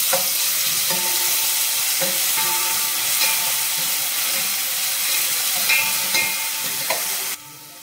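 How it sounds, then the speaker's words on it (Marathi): Ginger-garlic paste frying in oil with browned onions for Agri-style dry chicken: a loud, continuous sizzle with intermittent spatula scrapes and clinks, cutting off abruptly near the end, no voices. "आले लसणाची पेस्ट परतून झाली"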